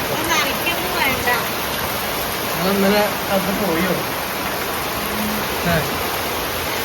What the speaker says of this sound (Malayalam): ഈ മഴ ഒരു മാസത്തേക്കുള്ള വെള്ളമായി